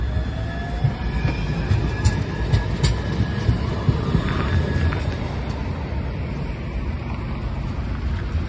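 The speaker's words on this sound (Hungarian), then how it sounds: "Az előbb láthattátok menni az Astra villamost" An Astra tram rolls past on a street in Nagyvárad (Oradea), giving a steady, loud low rumble with faint rail clicks and light metallic squeaks throughout, with no speech.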